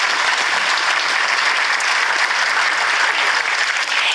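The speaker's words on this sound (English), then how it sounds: "So can we give them a round of applause?" Audience at a chamber of commerce annual dinner applauding, a dense, loud, continuous wash of clapping sustained from start to finish.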